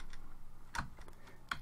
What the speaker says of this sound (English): And I want to type in sudo